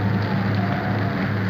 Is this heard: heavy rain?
yes